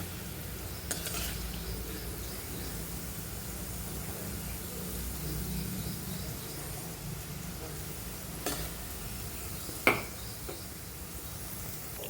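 Bitter gourd slices fry in oil in a kadai, giving a steady low sizzle with soft stirring scrapes and a couple of sharp utensil knocks against the pan.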